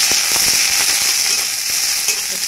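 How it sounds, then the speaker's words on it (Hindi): Large onions hit hot oil in a pan and sizzle loudly and steadily, with continuous close crackling while a soya chunk curry is cooked. "तेल गर्म हो चुका, अब इसमें डालूँगी बड़े साइज के प्याज"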